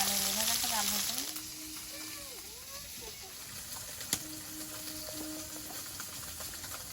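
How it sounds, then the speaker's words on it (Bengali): Koi fish frying in hot oil in a pan, with salt added to the oil, gives a soft, steady sizzle. It runs under a voice and some clatter, with one sharp tap near the middle. "তেলে একটু নুন দিয়ে দেবো, মাছ অল্প করে দিয়ে দিয়েছি"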